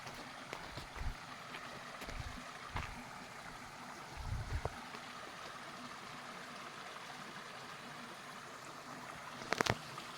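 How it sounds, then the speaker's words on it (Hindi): Water flows over a small stop dam in a stream outdoors, a faint, steady rushing wash with occasional low thumps and a sharp click near the end. "इस पानी की आवाज़ आ रही है।"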